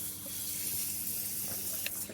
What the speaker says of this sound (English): They have a little shower where you can wash up before you come back in.